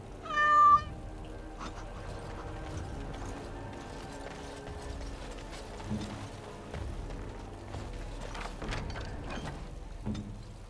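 A cat in the fantasy video game Dragon Age: Origins Awakening gives one clear, loud meow at the start, followed by quieter game ambience with soft clicks and mechanical rattles.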